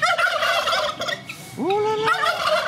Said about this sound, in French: Ah, les dindons. Regardez.